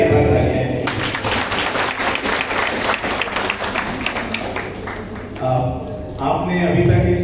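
Audience clapping at a live singing and poetry program, a dense, steady round of applause lasting several seconds, mixed with crowd voices and ending as talking resumes.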